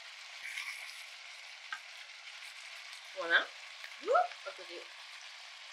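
Minced beef, about a kilo, frying in a pan for a bolognese sauce, giving a steady soft sizzle throughout with a few louder stirring scrapes near the end; a voice speaks briefly.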